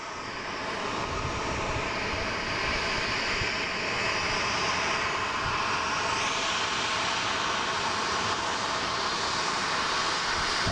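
A oneworld-livery airliner roars at Boston Logan International Airport, a loud, continuous engine rumble and whine that holds steady throughout with no voices over it.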